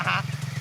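Geese near an ultralight aircraft give a short burst of honking, a brief nasal call followed by quieter chatter over a low steady engine drone.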